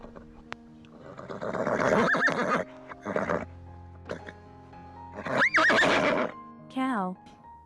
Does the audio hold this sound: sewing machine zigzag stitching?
no